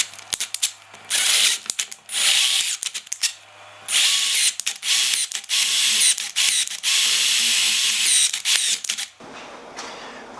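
Ratcheting tap cutting a new larger thread into an aluminium Aprilia motorcycle frame, a series of close bursts of clicking and grinding separated by short pauses.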